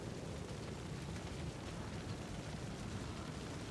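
A sustained explosion roars in the video game Lords of the Fallen, dense and broadband with a continuous rumbling wash that never lets up.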